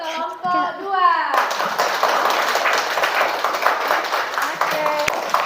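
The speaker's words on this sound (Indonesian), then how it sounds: "coba beri aplaus untuk kelompok 2" A class of children claps for a group, a burst of lively applause that follows a teacher's voice and runs on steadily with scattered kids' chatter underneath.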